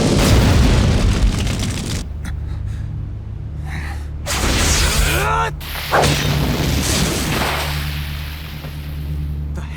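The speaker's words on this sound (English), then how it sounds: "Fire style, Fireball Jutsu!" An anime Fireball Jutsu fire attack in Naruto erupts as whooshing, booming blasts with sweeping whip-like swishes, loud bursts separated by brief drops to near silence.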